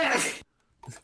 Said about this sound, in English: someone else in the room just sneezed.